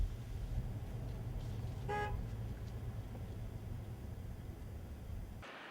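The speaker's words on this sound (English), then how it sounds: "Honk your horn, I still don't see you." Car horn at a hot air balloon event gives one short, clear toot about two seconds in, heard over a steady engine rumble and background noise before the sound cuts off.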